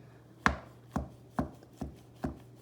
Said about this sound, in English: just kind of slice it with the point across